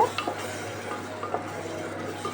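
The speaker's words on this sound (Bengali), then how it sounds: "পুরোটা দিয়ে এটাকে আমি ভালো করে নাড়ব" Spices and meat fat are stirred in a pressure cooker, making a continuous low sizzle under light scraping and a few small clicks of the spoon, steady and close.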